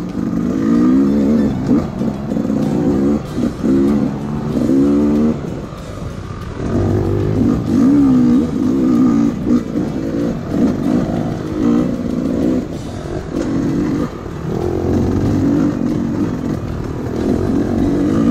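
A Gas Gas 300 motorcycle engine revving close by, a loud continuous two-stroke drone with repeated throttle blips rising and falling throughout.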